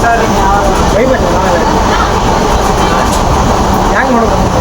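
A passenger train runs on the Bagalkot–Hubli line, heard from inside as a loud, steady rumble and rattle of wheels on the rails with faint rhythmic clatter throughout.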